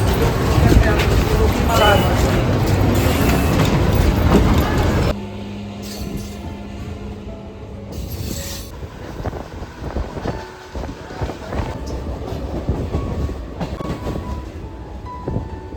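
A Mumbai local train arrives with a loud, close rumble and rush for about five seconds. It then settles into a quieter, steady rattling run heard from inside the carriage, with people talking over it.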